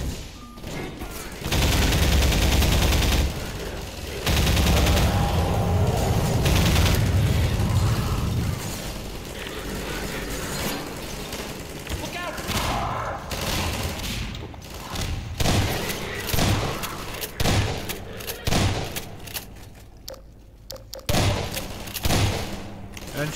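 Half-Life 2 game gunfire: loud sustained bursts of automatic shots and booms in the first half, thinning to scattered shots and pops later, with occasional talk mixed in.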